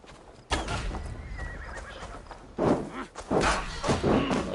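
A horse whinnies and its hooves clop on the ground in Assassin's Creed Valhalla, loud and close. The sound comes in repeated bursts.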